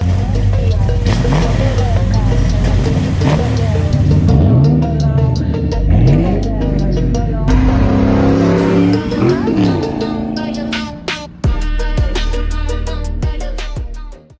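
A Ford Foxbody Mustang, fitted with a new distributor, wires and coil, idles and revs loudly up close in steady throaty bursts, with voices talking over the engine.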